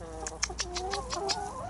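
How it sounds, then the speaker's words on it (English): Hens on an allotment cluck in a quick string of short, soft calls, close by and steady over low background noise. "There's one of the hens,"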